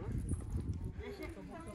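Horses being readied for a Kyrgyz mounted game played with a goat carcass shuffle and clop their hooves nearby, partly buried under someone talking.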